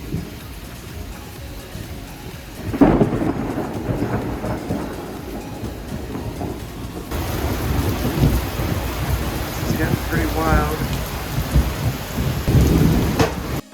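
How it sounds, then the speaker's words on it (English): Steady heavy rain pours throughout a Georgia thunderstorm, with a loud thunderclap early on and low rumbling thunder rolling on through the storm. "Check out this rain and lightning that we saw when we went to Georgia."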